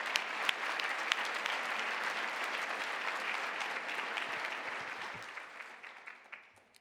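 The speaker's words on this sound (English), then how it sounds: "Let's give them a round of applause" A dinner audience at an annual chamber of commerce event claps in a sustained round of applause that stays full for several seconds and then gradually thins out and fades, with no voices over it.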